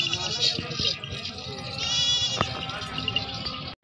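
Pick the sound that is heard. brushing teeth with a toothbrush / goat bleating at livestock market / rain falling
goat bleating at livestock market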